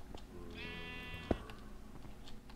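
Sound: sheep bleating in a video game

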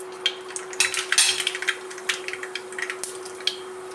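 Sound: mustard seeds popping in hot oil

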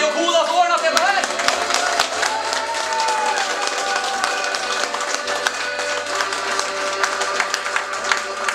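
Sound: audience applause at concert

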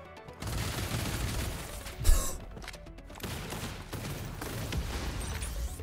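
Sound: minigun firing in video game BlazBlue Entropy Effect

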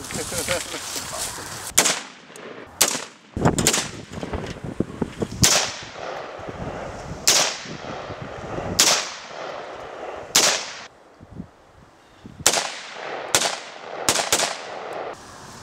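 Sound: M4 carbine gunshots firing at a bowling ball

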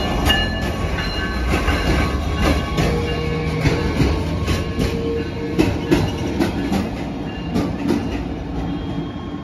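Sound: Stadler GTW train on New Jersey Transit River Line

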